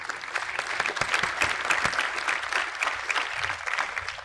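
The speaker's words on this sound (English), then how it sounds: "So a little round of applause for him." An audience claps steadily, a dense, even round of applause from a moderate-sized crowd that holds at a constant level throughout.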